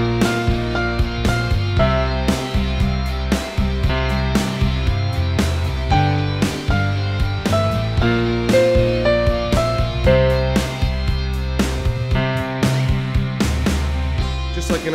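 Piano playing a song's chorus, a beginner-level arrangement with a steady rhythmic run of melody notes over a left-hand bass line, clear and solo.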